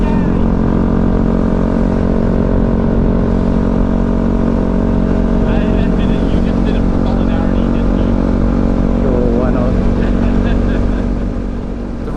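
A Yamaha WR250R with a 45-tooth rear sprocket, loaded with camping gear, runs a loud, steady engine drone with wind rush on a high-speed twisty road, and a voice comes through faintly.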